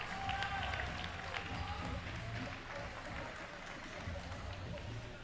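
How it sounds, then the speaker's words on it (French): Quiet, distant applause from spectators at an amateur women's scooter final for rider Ambre Perroin, a steady wash of clapping and crowd noise with low rumble underneath. "Applaudissements pour Ambre Perroin."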